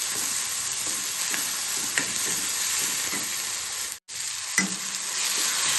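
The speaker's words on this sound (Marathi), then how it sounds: "टोमॅटो छान मऊ होऊ द्यायचे तेलामध्ये," Tomatoes soften in hot oil in a pan, giving a constant bright sizzle with rhythmic scraping as a spoon stirs them, briefly interrupted by a short pause.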